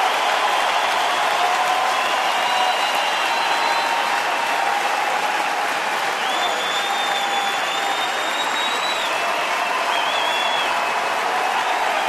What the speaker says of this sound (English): It is deafening here at the ballpark.